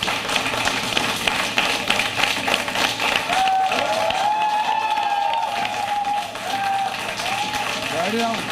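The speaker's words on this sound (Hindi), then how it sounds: "तालियों से स्वागत कीजिए" Applause and cheering from an audience fill the room, with a tonal musical sting rising through the middle and people's voices mixed in.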